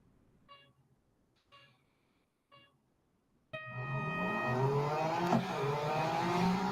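Race cars in Real Racing 3 launch into a head-to-head race after a few countdown beeps, then engines scream loudly and continuously, with rising and falling revs as gears change.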